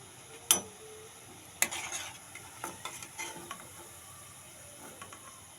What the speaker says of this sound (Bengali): ঠিকঠাকভাবে ভাজা হচ্ছে